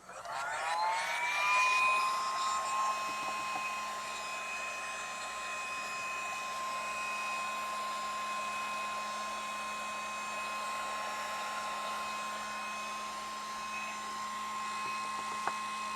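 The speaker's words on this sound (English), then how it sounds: "Heat gun." A heat gun blows steadily and close by, a continuous whooshing airflow with a rising whine as it spins up at the start, then holding a constant tone throughout with no talking.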